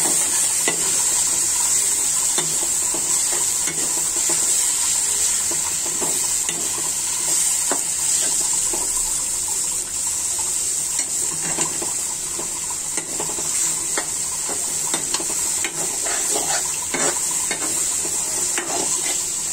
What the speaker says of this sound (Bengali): এখন আমি এই মশলাগুলো মাংসের সাথে কষিয়ে নেব।